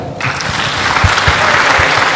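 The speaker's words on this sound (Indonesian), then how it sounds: "Tepuk tangan buat Forza ini." A crowd at a university talk show held by the Faculty of Ushuluddin, UIN Jakarta, gives loud, sustained applause, with dull rhythmic thumps pulsing through the dense clapping.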